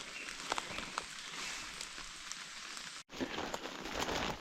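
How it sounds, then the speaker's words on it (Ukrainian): Steady light rain patters on surfaces outdoors, a soft continuous hiss with a brief dropout near the end, then resuming. "Дощик начебто трошки менше став."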